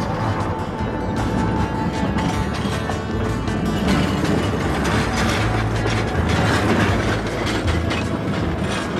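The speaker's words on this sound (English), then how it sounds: "What a great little train." A small train rumbles and clatters along steadily into Normanton on the Gulf line in Australia, a continuous loud mechanical rattle of wheels on track with no pauses.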